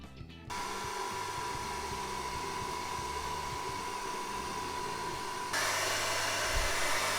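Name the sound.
improvised vacuum cleaner sucking up crumbs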